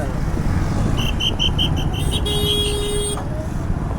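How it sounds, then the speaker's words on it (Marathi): Heavy road traffic jammed on a bypass road, with a dense steady rumble of car and motorcycle engines and repeated short horn toots, one longer honk near the middle, loud and close throughout. "भयानक ट्रॅफिक आहे किती वेळ लागेल माहित नाही"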